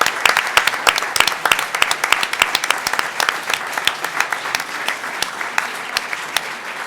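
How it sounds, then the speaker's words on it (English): A large audience at a U.S. Senate debate claps steadily, a dense patter of many hands that stays fairly loud throughout and fades slightly toward the end. "a big round of applause for yourselves for caring enough about this country"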